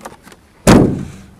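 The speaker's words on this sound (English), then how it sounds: "The driver's door isn't shutting quite properly on it either." Driver's door of a Land Rover 90 2.5TD hardtop, which does not shut quite properly, slammed once with a loud, sharp thud that quickly fades, after faint small clicks.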